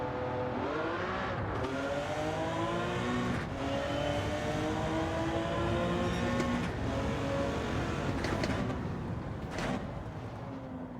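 A race car engine in Gran Turismo 7 revs up and down through gears, loud and steady with rising pitch sweeps, a few sharp transients, no talk over it.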